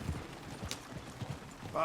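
Horses' hooves clip-clop in the Red Dead Redemption 2 video game, a soft, uneven series of low thuds running throughout, joined by a brief whinny-like sound at the end.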